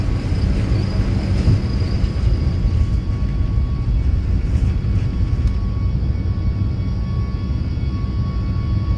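Airliner takeoff roll and climb in Microsoft Flight Simulator, an Air Canada Boeing 737 MAX 8 departing Boston: a steady, loud broadband engine roar with low rumble and a faint whine, continuous throughout with no talk.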